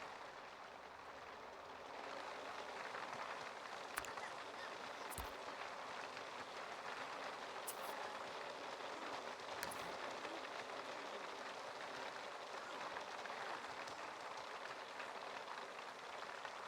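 Soft, steady rain hisses in the background of a zombie video game, faint and continuous, with a few brief clicks breaking through.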